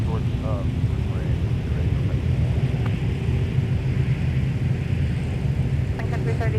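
An arriving airliner from Jacksonville at Minneapolis airport produces a steady, loud engine roar and rumble, close to the listener, with faint radio chatter in the background.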